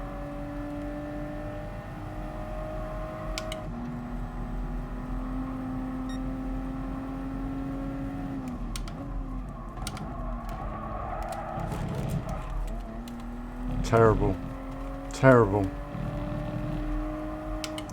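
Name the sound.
race car engine in Gran Turismo Sport video game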